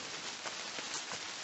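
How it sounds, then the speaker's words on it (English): Steady rain hisses down through the woods on a July thru-hike of New Hampshire's Cohos Trail, a soft, even patter with no voices. "Still raining"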